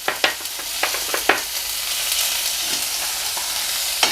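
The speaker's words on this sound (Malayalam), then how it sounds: "ബാക്കിയുള്ള വെളിച്ചെണ്ണയിലേക്ക് നമുക്ക് രണ്ട് വറ്റൽമുളക് ഇട്ട് കൊടുക്കാം" Dried red chillies, curry leaves and chopped shallots sizzle in hot coconut oil, a steady bright crackle broken by several sharp spatters and scraping stirs early on.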